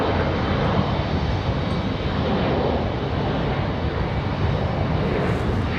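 Air France airliner at Raleigh-Durham International Airport, its engines giving a steady, loud broadband roar that holds evenly throughout without talk.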